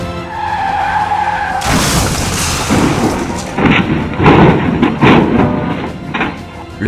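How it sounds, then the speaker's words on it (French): A car skidding and then rolling over in a crash: a steady tire screech, then a sudden loud burst of noise followed by repeated heavy thuds and crunching impacts, close and loud. "la voiture de Mélissa a fait des tonneaux comme une ballerine"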